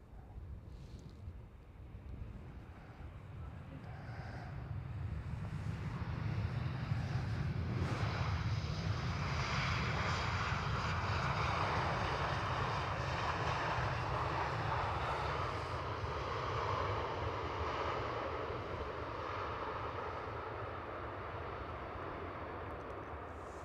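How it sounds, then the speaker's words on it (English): An EasyJet Airbus A320 or A319 lands at Amsterdam Schiphol in gusty wind. Its jet engines roar as a broad, distant rumble that swells and holds steady, with wind buffeting the microphone. "EasyJet Airbus A320 or A319."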